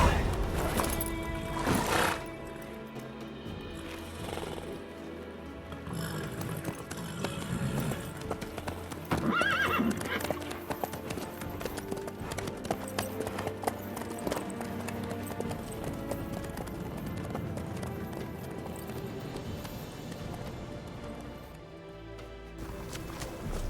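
Horse hooves clip-clop steadily with a whinny or neigh from a mount in The Witcher 3 video game, heard alongside game music and spoken dialogue throughout.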